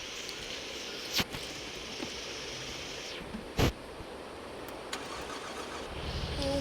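A new car's engine cranks and starts with a sharp burst partway through, then settles into a steady, close running hum and broad noise, with no talk.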